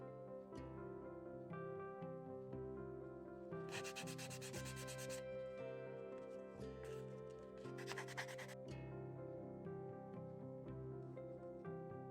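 Bursts of sanding, dry rubbing strokes against the leather edges of a bag, come in two short bouts over steady background music.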